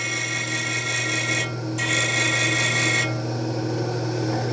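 A skew chisel's bevel is held against a spinning grinder wheel for woodturning sharpening, giving a steady, close grinding whine over a low motor hum that briefly eases and shifts as the steel contacts the wheel.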